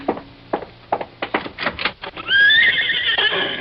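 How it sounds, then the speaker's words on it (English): A horse in a radio drama gives a loud, shrill whinny after a run of clip-clopping hoof taps, the neigh rising and trailing off near the mic. "Why, yes, that's a horse out there."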